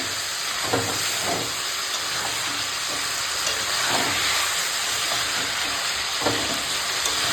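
Boiled mutton sautéing in a hot pan gives a steady, close sizzle and hiss throughout, with soft stirring scrapes now and then and no voices.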